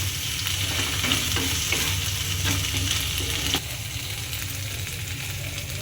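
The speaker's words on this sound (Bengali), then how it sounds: "আদা দিয়ে দাও হুম আর নাড়াচাড়া করো ভালো করে" Curry stirred in a hot pan after ginger is added, loud steady sizzling with repeated scraping and clinking strokes of the spoon against the pan, easing slightly in the second half.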